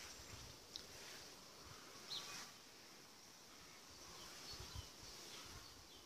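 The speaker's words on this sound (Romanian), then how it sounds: "La flori vin tot felul de albinuțe," Bees hum and buzz around the blossoms of a flowering snowball tree in spring, a faint continuous outdoor drone with a few brief louder passes of insects close by.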